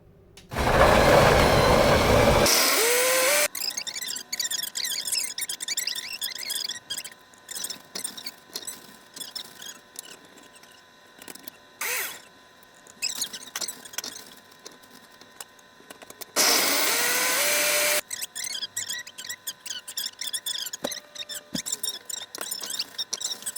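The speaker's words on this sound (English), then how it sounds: "is go ahead and grind it on up." A blender grinds watermelon rinds for a smoothie, with two loud roaring runs and quieter clattering and handling noises between them.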